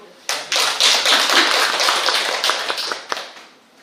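An audience applauds a speaker being introduced at a regional youth and tourism event in Daegu: a burst of many hands clapping starts abruptly, holds dense and steady for about three seconds, then thins out and fades.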